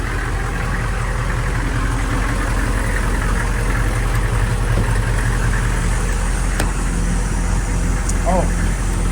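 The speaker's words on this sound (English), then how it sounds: "Let me kill the truck, it's so loud." A Hummer H1 truck engine idles loudly up close, a constant deep rumble running throughout with a few small clicks on top.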